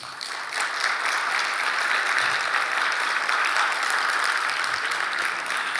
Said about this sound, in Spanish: Saludamos con un cariñoso y fuerte aplauso a nuestro alcalde de Lautaro, el señor Raúl Chiferli Díaz.